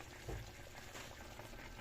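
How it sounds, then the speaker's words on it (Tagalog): Water boils in a pot with a salmon head for sinigang, a Filipino sour soup, giving a steady, soft bubbling and simmering with no voices. "Pakuluin muna natin, palambutin."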